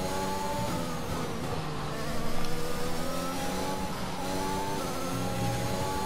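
Formula 1 car driven in the F1 Braking Point racing game, a steady high-pitched engine whine held throughout with a slight surge around the middle, continuous and close, no talking.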